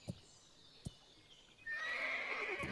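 Horse neighing in the medieval game Kingdom Come: Deliverance: a couple of sharp hoof thuds, then a loud drawn-out whinny rising up near the end.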